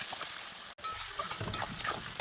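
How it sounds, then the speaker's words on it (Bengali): Potatoes fry in a pan with a soft, continuous sizzle and some stirring, faint and close, briefly cut off by a short gap before the frying noise resumes. "আর দেখো এদিকে আমি আলুগুলো লাল লাল করে ভেজে নিচ্ছি"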